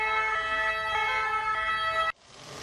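Ambulance sirens wail loudly at a paramedics' protest outside a health ministry, a steady multi-tone blare from many vehicles that cuts off abruptly near the end, leaving quieter street noise.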